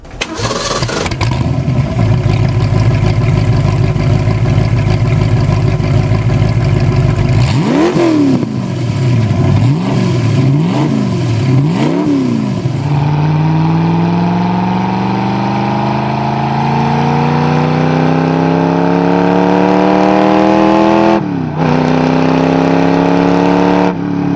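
A Ford GT40 Mark III road car V8 fires up with a loud starter whir, then blips through a series of sharp revs before settling into long rising and falling engine sweeps, close and loud with no talking.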